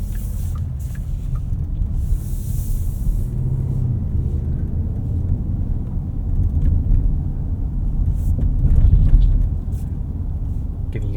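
A 2024 Porsche Cayenne S cruises through a neighborhood at night, its cabin filled with a steady low road and engine rumble that swells slightly near the end, with no clear talk over it.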